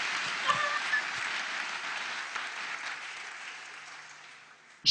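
A church congregation applauding, steady broad clapping sustained throughout at moderate distance, tapering slightly toward the end before a brief louder burst.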